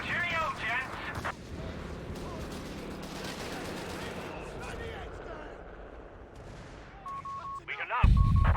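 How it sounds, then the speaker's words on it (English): Battle sounds from the Company of Heroes 3 strategy game, British forces in a 1v1 match: a dense stretch of gunfire and mortar blasts, ending in a loud low thud, with in-game voices and signals over it. "So the mortar, I might get a lucky hit in here with the mortar."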